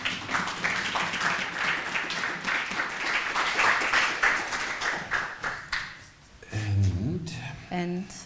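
Audience applause for a presenter at an arts talk: dense, steady clapping from a seated crowd for about six seconds, then fading as a few voices take over near the end.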